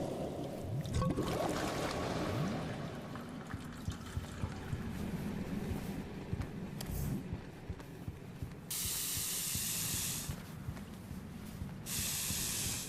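A spray effect fires in a multiplayer co-op video game under development, aimed through windows. It plays as bursts of bright, steady hissing, first one long burst and then a shorter one, loud over a quiet, murmuring game background.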